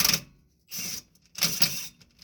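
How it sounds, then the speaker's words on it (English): A pneumatic impact gun rattles a 17mm bolt loose on a Subaru suspension during an Ironman 4X4 install, with two short bursts of close, loud hammering separated by a brief pause. "We'll use a 17mm wrench on one end and go ahead and gun it off on the other."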